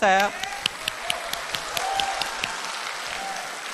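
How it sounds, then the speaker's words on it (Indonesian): Scattered applause from the audience at a televised Indonesian presidential debate, a burst at the start settling into steady clapping with some background chatter. "Silakan tepuk tangan."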